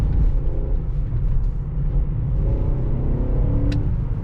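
A BMW X5 E53 4.4i 286 HP V8 running on LPG gives a deep, continuous engine rumble with slight swells in revs, close and fairly loud throughout.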